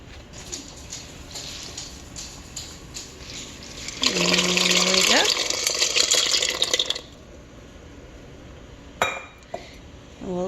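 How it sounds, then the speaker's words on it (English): Dry shell pasta tumbles into a pot of boiling water in a home kitchen, a loud bright rattling pour of about three seconds over steady bubbling, followed by quieter simmering and a couple of brief clinks. "let's get this pasta into the boiling water"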